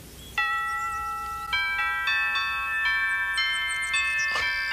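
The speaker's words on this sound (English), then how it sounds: "A doorbell." A doorbell chimes a bright sequence of ringing electronic tones, each note sustaining and overlapping the next, clear and nearby with no talking.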